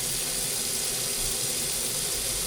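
Water tap running full blast, fed from a pressure tank, producing a steady, broad hissing rush with no breaks, fairly close and moderately loud throughout.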